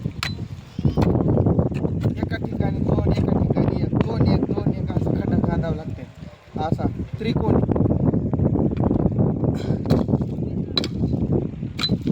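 Steady gusty wind buffeting the microphone, a low rumbling roar under continuous nearby talking, dropping briefly midway.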